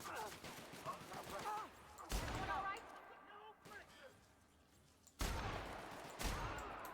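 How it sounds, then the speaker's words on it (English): Heavy gunfire in a game: loud bursts of shooting break out sharply several times amid a busy scene, with voices talking between the volleys. "Yeah, a lot of shooting."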